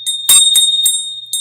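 A small bell is struck several times, each bright metallic strike ringing with a clear sustained high tone that carries between hits, loud and close.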